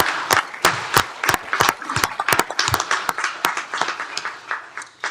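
Applause from a seated audience at a county commissioners court meeting, a round of scattered clapping lasting several seconds that thins out toward the end.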